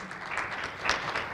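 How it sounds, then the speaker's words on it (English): During a semi-annual association meeting, a seated audience applauds in a brief, steady wash of clapping that swells slightly near the end, with a faint voice beneath. "let's give a round of applause for Vicki"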